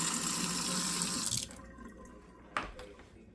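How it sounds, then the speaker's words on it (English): Tap water runs steadily into a kitchen sink fitted with a newly installed Badger 1000 garbage disposal, a broad rushing flow that cuts off partway, followed by quieter dripping and a brief splash. "Let the water run."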